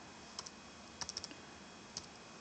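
Sparse keystrokes on a computer keyboard enter a command into a terminal: a couple of taps, then a quick run of four or five, then a final press, crisp and close in a quiet room.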